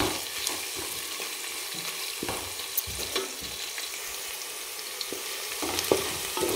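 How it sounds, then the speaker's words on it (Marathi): Onion sautéing in a pan until golden, a continuous moderate sizzle broken by repeated stirring scrapes and light clinks of the spoon, close up, with no talking. "परतून घेणार आहे त्या कांद्याला"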